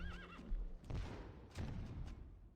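A horse whinnies in the strategy game Rise of Nations: one clear wavering neigh opens the clip, then soft thuds and low rumbles follow.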